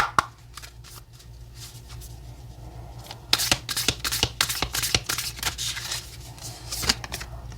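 Oracle cards being shuffled by hand during a tarot reading: a quick run of crisp, papery riffling flicks close to the microphone, quieter at first and then denser, with no one talking.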